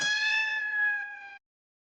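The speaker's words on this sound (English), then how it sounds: "C for cat." A single cartoon cat meow, clear and close, held for just over a second before cutting off cleanly into silence.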